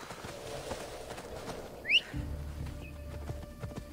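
Horse hooves clip-clop faintly in a video game, settling into a soft, steady rhythm from about halfway through, with a brief whistle-like chirp just before.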